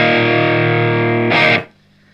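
An electric guitar runs through a Boss FDR-1 Deluxe Reverb pedal with the overdrive gain turned full up. A sustained, distorted chord rings loudly, then a short, bright strum burst cuts off abruptly, with no voices.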